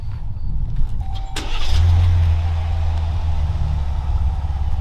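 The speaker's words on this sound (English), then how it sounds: "it's a luxury vehicle, but it's still gonna have a little bit of grumble to it" A 2023 Grand Wagoneer with the 3.0 Hurricane engine cranks briefly and fires up, then settles into a close, deep, steady idle rumble.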